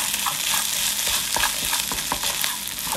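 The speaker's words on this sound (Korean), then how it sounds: "설탕도 조금 넣고 같이 볶아주세요." Snow crab fried rice stir-frying with a pinch of sugar, a steady close sizzle broken by repeated scraping and tossing strokes of the spatula, with no talk.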